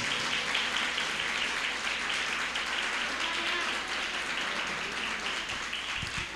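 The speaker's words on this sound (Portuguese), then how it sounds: "Quem crê assim, aplauda Jesus" A church congregation at a thanksgiving service applauds steadily, a dense, even wash of many hands clapping that holds at a moderate level throughout without a break.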